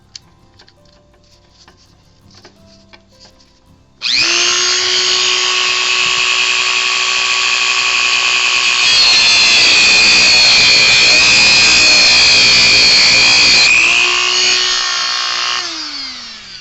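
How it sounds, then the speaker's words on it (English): A rotary tool cuts the excess off a screw on HO scale draft gear, a loud steady high-pitched whine that starts abruptly, grinds harder as it bites, then winds down. "I'm going to cut that off with a rotary tool."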